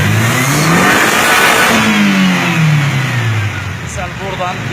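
Mazda Lantis 1.8 car engine revving up and down in repeated sweeps, loud and close, with a steady underlying drone and a voice talking over it.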